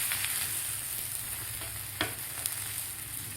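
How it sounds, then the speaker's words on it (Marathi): A thalipeeth flatbread of soaked green mung beans and spinach sizzling steadily on a hot pan just after being flipped, with occasional soft knocks of a spatula. "आपण थालीपीठ पलटी करून घेऊया."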